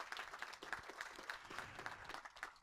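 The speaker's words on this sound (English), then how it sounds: "So a round of applause, please, for our corporate sponsors." Audience applause for corporate sponsors at a conference on intellectual and developmental disabilities, a steady patter of many hands clapping, fairly faint and distant throughout.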